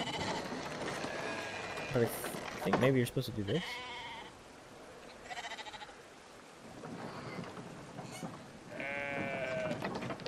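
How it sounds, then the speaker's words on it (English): Sheep from the video game Brothers: A Tale of Two Sons bleat several times in wavering cries, some at moderate loudness, with game ambience and someone talking over much of it. "he just kept putting the sheep on the bridge."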